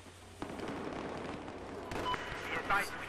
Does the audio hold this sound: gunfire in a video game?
yes